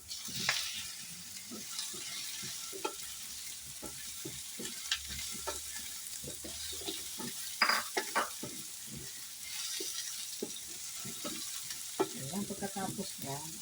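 Onion and garlic fry and sizzle in a pan, a steady hiss throughout with repeated scraping and clinking of a utensil stirring against the pan, fairly close and moderately loud, with no talking.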